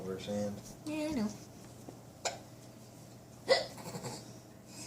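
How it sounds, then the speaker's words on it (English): A child hiccups in sharp, brief bursts spaced a second or so apart, close and fairly loud, with soft voices and sing-song talk in between. "and then we get the hiccups"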